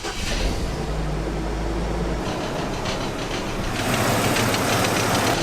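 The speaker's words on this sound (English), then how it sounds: "diagnosing and repairing this engine chatter coming from my belt tensioner" A Hummer H3 engine runs with a rapid metallic chatter from a faulty belt tensioner, a steady close ticking rattle throughout with no talk.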